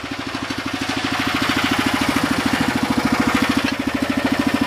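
A 1968 Sears Super 12 garden tractor, fitted with a front dozer blade, mid-mount and 3-point hitch lift, runs steadily nearby with a regular, loud single-cylinder engine chug throughout and no talking.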